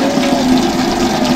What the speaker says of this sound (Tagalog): Tapos ito yung tubig, ito yung gripo natin. Napakalakas, walang problema sa tulo.